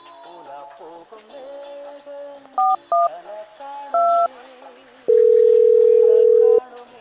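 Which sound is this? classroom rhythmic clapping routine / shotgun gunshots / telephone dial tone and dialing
telephone dial tone and dialing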